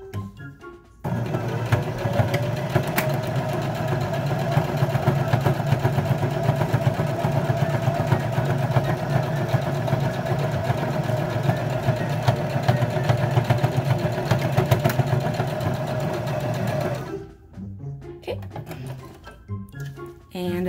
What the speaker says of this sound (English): I'm gonna go back and forth once or twice to make sure the stitch stays.